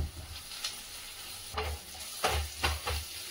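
Onions sizzle gently in a kadai as they fry golden, a faint steady hiss broken by a few soft scraping stirs near the end.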